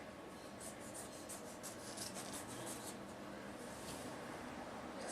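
Scissors or a blade cutting through quilt fabric along a fold, a soft continuous rasping rub with faint rhythmic snips, close and quiet.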